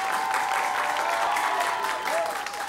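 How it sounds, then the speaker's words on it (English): A crowd at a school competition between Hallandale and Blanche Ely claps steadily and fairly loudly throughout, a dense sustained round of applause. "Big round of applause, let's hear it for both schools."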